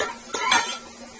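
A pressure cooker and wok being lifted and handled in a home kitchen: a short metallic clatter of cookware, close and brief, with no talking.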